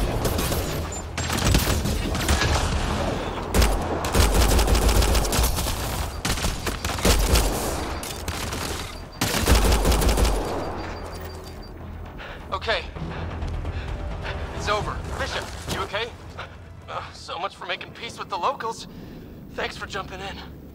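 Heavy gunfire erupts in Mass Effect: Andromeda, with dense bursts of shots and booming impacts that rise and fall in waves, while voices talk over the fighting.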